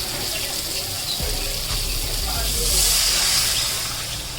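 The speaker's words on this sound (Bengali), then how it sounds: "এবার আমরা ওপর থেকে দিয়ে দিচ্ছি পরিমাণ মতো জল" Water poured from above into a frying spiced potato and cauliflower mixture sets off a steady hiss with a watery rush that swells in the middle, and talk is heard over it.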